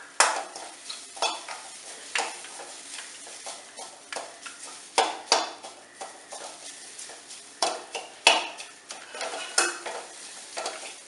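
Fried onions with tamarind are stirred in a pan, a spoon scraping and clacking against the metal in repeated rhythmic strokes over a soft sizzle, close and without talking.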